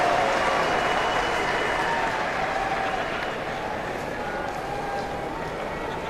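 Big stadium crowd applauding and cheering after an Australian rules football match between St Kilda and Sydney at Westpac Stadium in Wellington, New Zealand. The dense, steady roar of clapping stays loud throughout and eases slightly toward the end.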